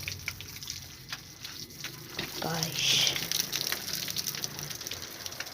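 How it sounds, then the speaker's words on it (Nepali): Water runs and gushes steadily, a broadband rushing that swells briefly near the middle, with a voice speaking over it. "पानी आ रहा है"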